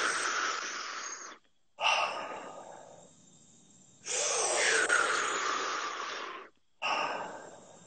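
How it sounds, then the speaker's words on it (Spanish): Deep, continuous breathing during a guided breathwork session, with long, loud, airy inhalations and exhalations flowing in a circular rhythm, separated by brief pauses, close to the microphone. "Sigue respirando para que la gente respire acorde con tu voz, con el sonido de tu respiración"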